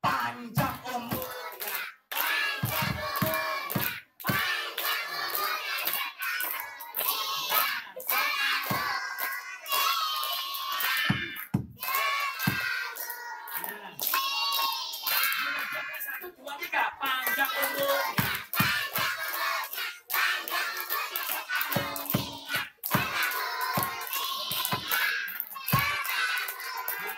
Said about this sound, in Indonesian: Nyanyi yang keras sambil tepuk tangan yuk